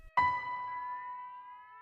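A single siren tone starts abruptly after a brief quiet moment and then holds steady and clear, sounding rescue vehicles responding to a burning passenger plane crash on a runway in South Korea.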